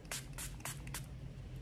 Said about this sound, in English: So I do know it's a prep and prime spray.